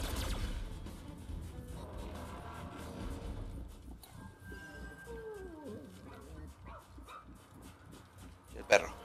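A dog in the video game ReCore gives short barks and whimpering yips among game effects and mechanical noises, with a player talking over much of it.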